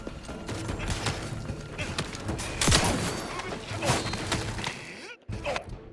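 Gunfire and chaotic combat effects from the video game Outer Worlds 2, dense and continuous with sharp bursts, mixed under players talking.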